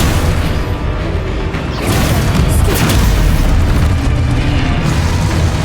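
Loud, continuous booming blasts from Expulso and Confringo spells in the Hogwarts Legacy video game, dense overlapping explosions and rumbling bursts filling the mix.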